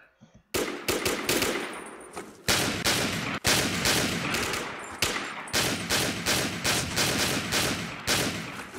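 Rapid bursts of automatic gunfire in the online shooter game Warmode, loud and close, firing in repeated volleys with brief gaps between them.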